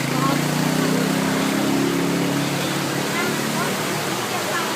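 Strong floodwater current in Hermosa, a broad continuous rushing roar that stays dense and loud throughout, with a low droning undertone fading after the midpoint.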